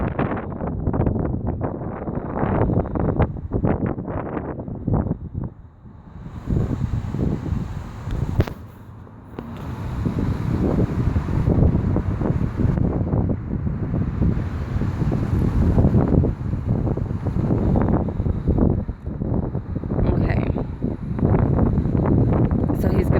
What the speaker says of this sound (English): So it's pretty windy right now.